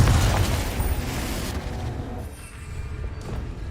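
Confringo fire spell explosion in the video game Hogwarts Legacy: a loud, deep blast at the start that rumbles and decays over several seconds, with a fainter secondary burst near the end.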